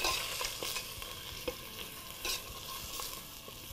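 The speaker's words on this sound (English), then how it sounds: "give it a good stir again" Rajma masala beans being stirred in a pot, a soft continuous sizzle with scraping spoon strokes recurring every second or so, fairly quiet and close.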